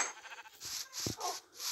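Sheep in the Minecraft video game bleat several times in quick succession, loud and close, over faint background sound; no talk.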